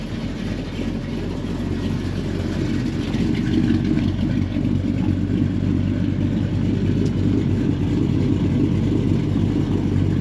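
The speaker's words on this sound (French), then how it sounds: "alors contact, démarreur, voilà, ça c'est bien, hein, sans action sur l'accélérateur" A 1976 Chevrolet C10 engine idling steadily, with a deep low rumble and a constant even drone that holds level throughout, close and alone with no talk.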